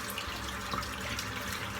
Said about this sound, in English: Just rinsing out the soap.